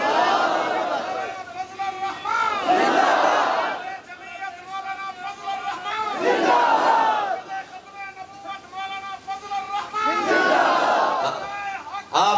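A large crowd at a religious conference chants a slogan in loud, repeated surging bursts, three waves rising and falling, with a leader's voice calling between them.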